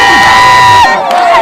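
A large crowd in Mweso cheers and shouts loudly to welcome the provincial authority, with high, sustained voices, whoops and children's cries close by.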